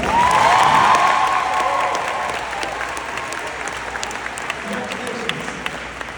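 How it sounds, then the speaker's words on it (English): Applause from an audience at a school honor society cord ceremony, loud at first and gradually fading to scattered clapping over about six seconds. "please give a round of applause for National English Honor Society"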